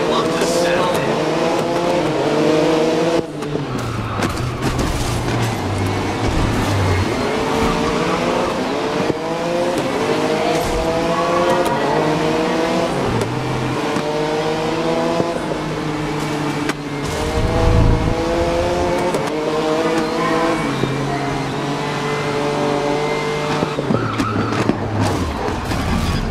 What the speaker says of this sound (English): Already some real aggressive racing as they love to settle in.